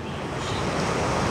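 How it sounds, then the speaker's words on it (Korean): Ocean waves wash onto the shore at a Busan beach as a steady, broad roar of surf with some wind noise, continuous and fairly loud with no voices. "파도가 바다 앞에 보이는데 저 파도 한번 보여주세요."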